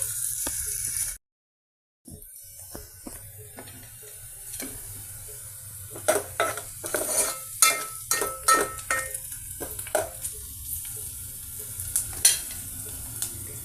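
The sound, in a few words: onion pieces and green chillies frying in oil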